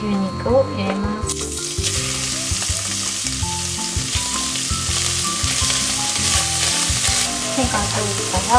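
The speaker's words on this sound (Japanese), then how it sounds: "油、牛肉を入れます。" Beef dropped into hot oil in a pan for Japanese nikujaga, bursting into loud continuous sizzling that builds after a second and carries on steadily, with light scraping and stirring over a background of soft music.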